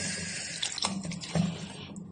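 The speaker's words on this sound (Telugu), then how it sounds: "ఇలా వచ్చిన దాన్ని కూల్ వాటర్తో కడుక్కోవాలి" Strained milk curds for rasagulla are rinsed with cool water, a running, splashing flow with a few drips and squelches that fades out near the end.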